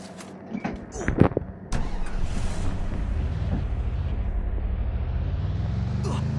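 A vehicle in the Free Fire battle royale game starts up after a few short clicks and thuds, then drones on as a steady, loud engine hum that holds for several seconds while the car is driven.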